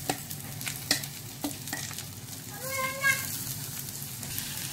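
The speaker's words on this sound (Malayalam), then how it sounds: "ഇതിലേക്ക് കുറച്ച് ഉപ്പ് കൂടി ഇട്ട് കൊടുത്ത് നമുക്ക് വഴറ്റാം" Onions and curry leaves sauté in a pan for a Kerala-style prawn roast, with scattered stirring scrapes and a soft sizzle over steady background noise, plus a brief tonal chirp partway through.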